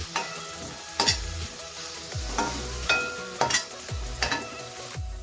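A spoon stirs turmeric into a vegetable filling for vada pav in a pan, with repeated rhythmic scrapes and knocks about once a second over a low sizzle, close up and without speech.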